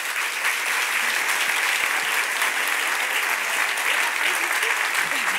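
A large audience applauds steadily to welcome two guest crime authors at a ladies' crime talk event, a dense, continuous wash of clapping close and loud throughout with no pauses.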